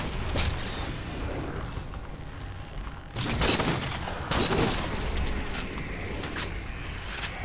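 Gunfire in the video game Halo MCC, rapid bursts of loud shots crackling continuously, with sharper heavy blasts standing out over the steady barrage.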